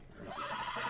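A horse in The Last of Us video game gives a short, close whinny that rises and wavers for under a second, with no talk over it.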